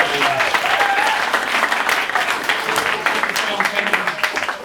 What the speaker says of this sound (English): can you give a round of applause as we welcome Cheryl, Mark, Michelle, Otto, Paul and Elle again to the stage